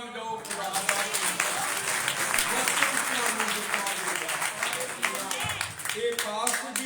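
Congregation clapping together at a church meeting, a steady dense patter of many hands sustained throughout, with voices mixed in beneath it.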